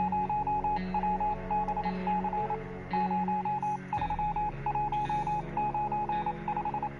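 An SOS signal beeps out in Morse code in a video game, short and long electronic tones repeating in a steady rhythm over a low humming background, clear and alone without talk.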